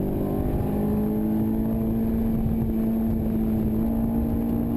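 A Honda S2000 on RE71 tires at an SCCA time trial runs flat out through the last turn toward the start-finish line, its engine a loud steady drone with a rising tone.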